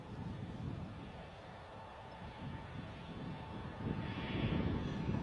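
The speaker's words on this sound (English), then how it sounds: "let's get some departure action now from EasyJet." An EasyJet airliner departs Bristol Airport, its engine roar far off and moderate, building gradually with a broad rumble that swells toward the end.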